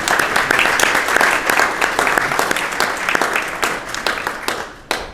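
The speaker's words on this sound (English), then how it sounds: "so please, a round of applause." Sustained applause from a crowd at an Earth Day press conference, dense clapping that swells and then tapers off near the end.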